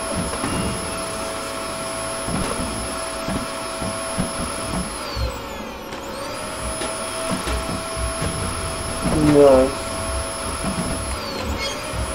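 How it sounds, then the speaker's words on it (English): A vacuum cleaner drones steadily for about twelve seconds in the spider-hunting game Kill It With Fire, a loud, even whine that dips briefly midway and swells near the end. A voice briefly speaks over it. "Use a vacuum on number 7."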